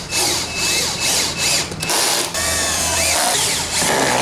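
Power drill driving screws into cedar while building a nightstand, a loud high-pitched whine running in bursts with short dips and pauses as each screw seats.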